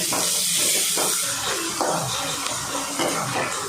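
Onions sautéing in hot oil in a pan while cooking a chicken leg masala: a loud, continuous sizzling hiss that crackles and fluctuates, close up, with no talking.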